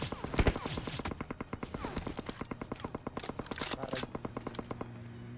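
Rapid automatic gunfire in a shooting video game, dense bursts of shots in quick rhythm, loud and close, with a voice speaking over them.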